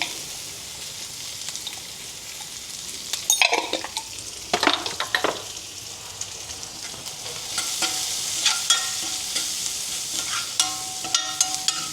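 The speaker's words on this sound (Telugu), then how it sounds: "ఉప్పు వేసి కలిపేసుకోవాలి కొంచెం వేగనివ్వాలి" Onions frying in a pan with salt and turmeric, a steady sizzle broken by several sharp clatters of stirring and scraping, the frying growing louder and brighter in the second half.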